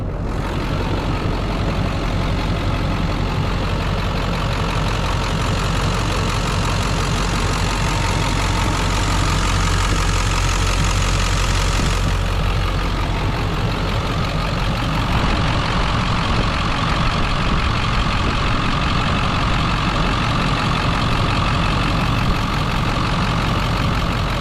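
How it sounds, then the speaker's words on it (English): A 2002 Ford Excursion Limited 4WD with a 7.3L Powerstroke diesel idling, a steady loud rumble with a dense clattering texture throughout, close by, with a slight change in tone midway and no talking. "It's already running, so I might as well let you hear it idle"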